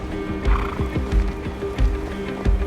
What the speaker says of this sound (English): Przewalski horses.